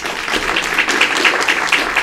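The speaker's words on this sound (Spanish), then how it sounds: "La recibimos con un caluroso aplauso" A warm round of applause greets a doctor at a scientific conference of a regional maternal-child institute, dense and sustained hand-clapping from the hall with steady intensity.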